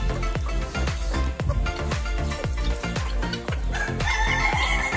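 Chickens being fed bread cluck and crow nearby, with a steady run of short rhythmic clucks and a rooster's drawn-out crow toward the end.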